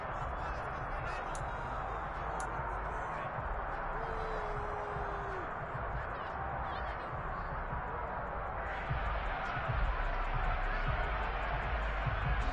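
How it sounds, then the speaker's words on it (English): A stadium crowd in a PS5 Madden-style football game, Bears vs Falcons, keeps up a steady, dense roar of shouting during a replay, with a commentator talking over it and a louder swell near the end. "Plenty of shouts from this crowd as they watch the replay"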